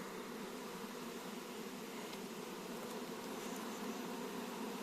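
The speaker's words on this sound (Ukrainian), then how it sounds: "Отак от у нас бджолки піднімаються і летять десь непонятно де" Honey bees flying around a hive during stimulative feeding, a steady dense buzzing hum that continues evenly throughout, with no voices.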